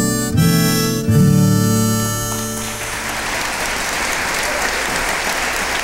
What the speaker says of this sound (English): a big round of applause to Mr. Lindgren